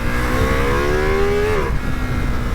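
A Ducati Multistrada V4 engine pulls hard on the road, its steady loud drone climbing in pitch before a quick gear change drops it, all under constant wind rush.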